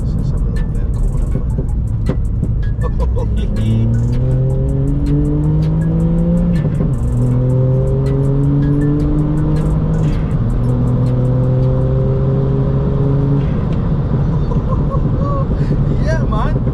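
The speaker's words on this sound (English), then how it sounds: "you can hear the turbo build up as well, can't you? This is a 1 litre TSI." A VW Up GTI with its 1-litre TSI turbo engine pulls hard through corners, the engine note rising steadily through the gears with brief dips at each shift, heard loudly from inside the car with occasional talk.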